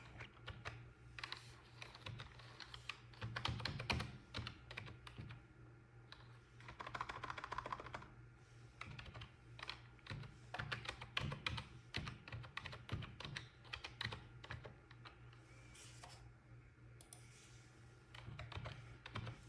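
Someone types on a computer keyboard while setting a password during an Ubuntu install, producing a long run of quick, irregular key clicks and taps, close and fairly quiet, with brief pauses between bursts.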